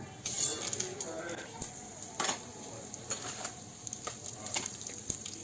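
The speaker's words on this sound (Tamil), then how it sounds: "இது நல்லா பொரிஞ்சு வருது." Whole spices, cinnamon, cloves and star anise, frying in hot oil for a vegetable biryani, a soft steady sizzle with light stirring and a few utensil clinks close by.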